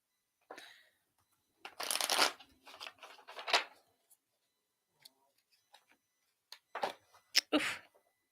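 A deck of playing cards is shuffled during a live tarot or card reading, giving several bursts of riffling and snapping close by, separated by short pauses, with faint rustles between.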